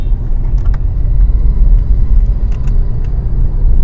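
A car on the road during a driving lesson, a steady low engine and tyre rumble heard from inside the cabin with a few light clicks and rattles, continuous and fairly loud.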